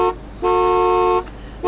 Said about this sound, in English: that's when you hear people blow their horns incessantly